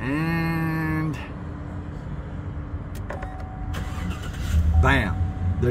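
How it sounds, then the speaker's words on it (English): A GMC Yukon cranks over with a rising starter whine and catches within about a second, then settles into a steady idle while a person talks nearby and a few clicks and bumps come from inside the truck. "Baby fires right up"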